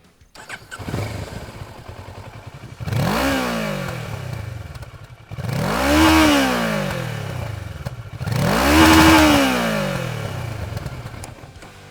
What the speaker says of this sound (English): this is how the motorcycle sounds like. We're going to keep it in idle, bring it in the mid-range